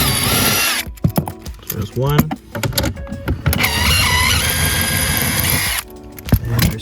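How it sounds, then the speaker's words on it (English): A power drill removing nuts during a car cabin air filter change whirs in short bursts and a longer steady run, with someone speaking briefly between the bursts. "So we have here our trusty little power tool."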